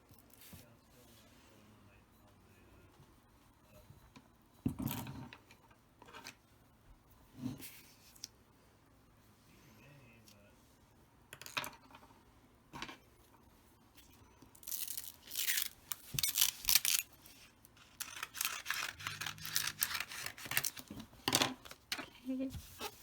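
A Brother ScanNCut machine cutting an intricate design, heard as quiet scraping and whirring broken by sharp ticks and bursts of cutting noise that grow busier and louder toward the end, with occasional talking in between.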